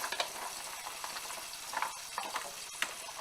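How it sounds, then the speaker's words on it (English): Garlic and onions fry in a pan, a continuous sizzle close by, broken by several sharp stirring scrapes and clicks. "Now we're going to go for the onions because we want to fry this up."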